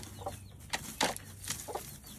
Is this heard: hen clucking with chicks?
yes